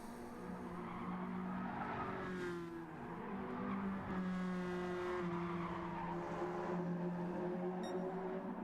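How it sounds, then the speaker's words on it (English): Race car engines roar and tires squeal in a Gran Turismo online race of Nissan Silvia touring cars, a steady loud blend of several engines changing pitch through braking and acceleration. "you can tell by the sounds of the engines"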